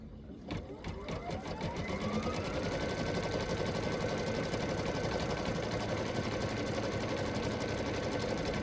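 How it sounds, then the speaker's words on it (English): An embroidery sewing machine stitching out a house design starts up and runs at a fast, steady mechanical rhythm, loud and close and unbroken for several seconds, with no talking. "I'm going to push the foot down and push my green light and let it go ahead and sew the house out"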